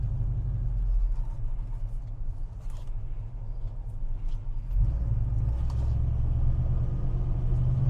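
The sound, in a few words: 1970 Chevrolet El Camino 350 driving down the street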